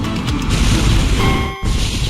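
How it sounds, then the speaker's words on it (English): Cannon fire in the Ace Combat X flight combat game, a loud, close burst of booming crashes with a brief dip, then more heavy rumble. "Cannon firing!"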